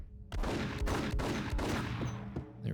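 Enemy gunfire in the Max Payne video game comes as a fast run of loud, sharp shots, several close bursts cracking in quick succession, with a short quiet gap before the firing starts.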